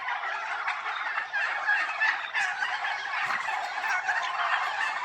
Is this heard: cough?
no